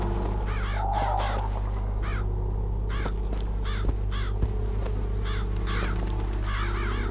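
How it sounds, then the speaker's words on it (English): Crows caw over a leftover feast of rotten food in the Bioshock Infinite video game, with repeated raspy calls scattered through the clip over a steady low ambient hum. "So the crows eating the feast."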